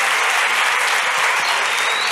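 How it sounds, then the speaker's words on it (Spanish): Loud, dense applause from a large audience at a gathering, continuous and evenly sustained throughout with no break. "vamos a dar un aplauso más fuerte a Christy Müller."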